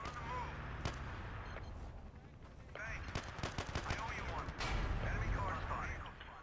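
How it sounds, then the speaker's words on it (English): Gunfire in Battlefield 2 during urban squad combat, distant rapid shots and bursts crackling over background battle noise, with a player talking over it. "And a guy shooting from behind."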